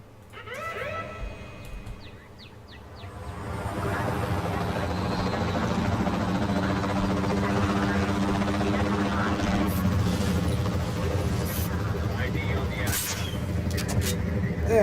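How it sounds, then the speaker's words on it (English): Helicopter in the video game Jurassic World Evolution 2, a steady rotor drone that swells after a few seconds and holds loud and constant under a person talking over it. "The helicopter isn't actually going for it"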